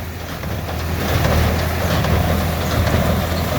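Gallignani 3690 baler baling in a field, pulled by a New Holland TT55 tractor, a steady loud mechanical drone with low engine rumble that builds slightly and holds without talk.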